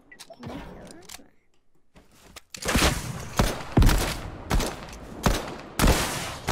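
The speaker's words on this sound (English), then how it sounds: "I'm headshotting him." Loud, close gunfire from a video game deathrun map: about half a dozen sharp shots and short bursts fire in an irregular rhythm after a quieter opening with brief clicks.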